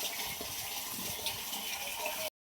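Steady rushing water pours into a container, a continuous broadband splash that holds even for about two seconds, then stops abruptly.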